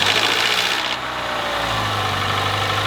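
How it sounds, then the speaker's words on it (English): Metallic rattle from a car engine starting up; the car's customer never changed the oil. A dense, loud clattering roar settles after a second into a steady rough idle. "that first metallic rattle you heard once the starter engaged and the engine actually started"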